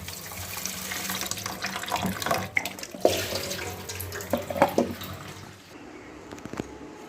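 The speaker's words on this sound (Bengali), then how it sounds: "আমগুলো করছি করছি ভালো করে ধুয়ে নিয়েছি বাড়ি লেগেছিল আবার কাটার পরে ধোবো" Mangoes from a garden tree being washed under a running kitchen tap, water splashing steadily into the sink with a few louder clunks of fruit and handling, then easing off near the end; no one talks.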